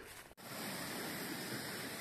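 Steady broadband rush of a river flowing down from a large waterfall on a trail in Serra da Canastra, Brazil, near Cachoeira do Fundão, with a brief dip before the continuous roar resumes.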